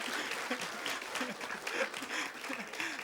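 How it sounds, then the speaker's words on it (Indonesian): Studio audience at a comedy TV show claps in moderate, steady applause. "Tepuk tangan dulu dong."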